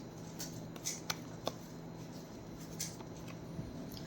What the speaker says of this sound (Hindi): थोड़ा सा शफल करके देखते हैं क्या कार्ड हमारे पास आ रहे हैं